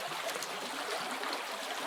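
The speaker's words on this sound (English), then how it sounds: "making this massive noise now as the sewage comes gushing out in front of us." Sewage water gushing out of an outflow into a small forest stream, a steady, loud broadband rush of pouring water that holds constant throughout with no pauses.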